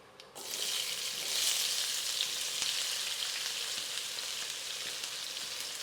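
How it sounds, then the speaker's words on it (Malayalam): Steady crackling sizzle of fennel seeds and sliced onion frying in hot oil for beef fry, constant and fairly close, with a sharp start and no talking. "പെരുജീരകം പൊട്ടിയിട്ടുണ്ട് അപ്പോൾ അതിനകത്തോട്ട് സവാള ഇടും"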